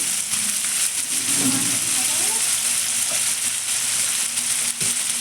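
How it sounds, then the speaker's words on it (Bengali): Chili, cumin and coriander powder masala sautéing in a pan, a steady dense sizzle with faint scraping of stirring, continuous and close throughout. "পুরো মশলাটা এবার একটু কষিয়ে নেবো"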